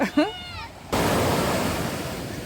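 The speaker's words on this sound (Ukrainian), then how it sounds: "Ух, як морічка хвилюється." Sea waves surge onto the shore along an Odesa seaside promenade at Maly Fontan and Arcadia on a rough evening after a storm, a loud continuous wash that swells after a brief opening voice.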